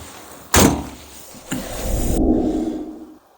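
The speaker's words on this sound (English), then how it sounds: "and close your door securely." A truck cab door slams shut with a sharp thud, followed by a second softer clunk and a brief rustle inside the cab.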